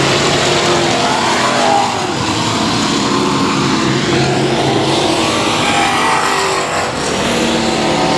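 Race cars roar around South Texas Speedway in a steady, loud wash of engine noise as the field comes out of turn four onto the front stretch, with no speech heard.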